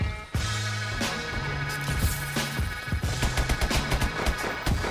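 Rapid automatic gunfire from the KF5 in Call of Duty: Advanced Warfare, loud sharp bursts of shots firing in quick succession over game music and effects, growing denser toward the end.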